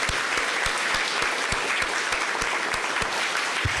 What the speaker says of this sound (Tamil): அந்த சிங்க பெண்களுக்கு ஒரு பலமான கைத்தட்டல் கொடுங்க.